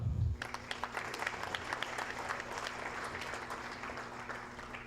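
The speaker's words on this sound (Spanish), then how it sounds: "Recibimos pues al señor Moisés Rojas con un fuerte aplauso" Audience at a technical-commercial presentation session applauds to welcome a speaker, steady moderate clapping from a roomful of people after a brief low thump at the start, continuing throughout.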